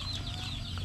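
A chicken clucks in a short, soft burst over a steady low background hum, close by and brief.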